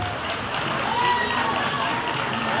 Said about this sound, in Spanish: Más fuerte ese aplauso, por favor